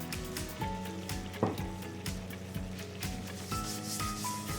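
A rolling pin rubs and presses across dough on a work surface, giving steady scraping, sanding-like strokes with a few louder pushes, while faint steady tones sound in the background.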